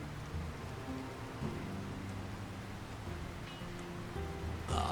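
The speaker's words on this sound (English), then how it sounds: "Who could live in a town where it's always raining?" Steady rain pours over a town in The Lord of the Rings: War in the North, a dense even hiss with faint low rumbling beneath, no voices.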